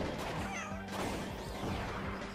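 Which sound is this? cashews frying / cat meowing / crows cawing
cat meowing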